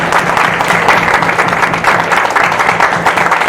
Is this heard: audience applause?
yes